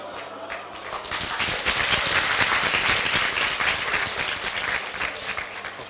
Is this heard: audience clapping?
yes